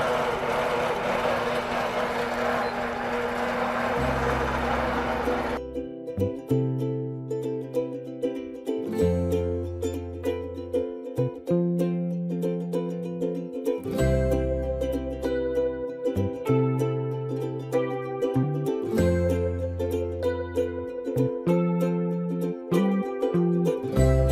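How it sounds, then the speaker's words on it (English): A Quilt Path computerized quilting machine sews on its own with a steady motor hum that shifts up and down in pitch in repeated stepped patterns. Before the hum starts there is a brief stretch of broadband noise, and no one speaks. "And Quilt Path is going to sew for me."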